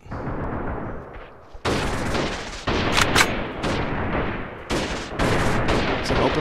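Video game gunfire in an open-field guerrilla warfare battle: repeated loud bursts of rapid shots crack in several clusters, with brief lulls between volleys.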